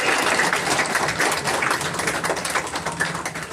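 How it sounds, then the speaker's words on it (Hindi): A crowd claps continuously at a political gathering in Gayghat, Muzaffarpur, a dense, fairly close patter of many hands with no voices standing out. "जोरदार ताली बजाते रहिए, ताली का नाम होना चाहिए"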